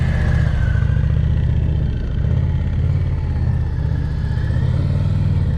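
An Indian Challenger motorcycle's engine drones loud and close, holding a steady mid-pitched note with a slight dip in revs partway through on a low-speed riding course.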